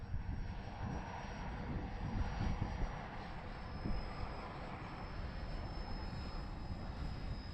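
Dynam Grand Cruiser V2 RC plane flying at steady throttle, a continuous droning motor hum with a thin high whine holding throughout, no talk.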